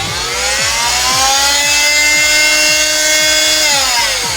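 Galax Pro 400W oscillating multi tool with QuickRelease blades running on its own, a loud steady high-pitched whine with a rapid pulsing rattle that shifts pitch partway through.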